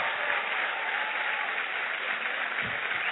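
Sustained, dense applause from a church congregation, many hands clapping at once in a continuous, even roar that holds steady throughout.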